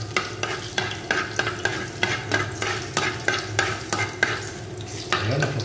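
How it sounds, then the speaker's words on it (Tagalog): Garlic sautéing in a pan for beef menudo, a steady close sizzle broken by regular scraping strokes of a spoon or spatula stirring through it, with no voices. "naglagay na tayo ng bawang"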